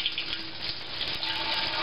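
Very hot water pours steadily into a stainless corny keg during cleaning, a loud, even hissing rush with a slight hollow metallic ring, heard alone without talk.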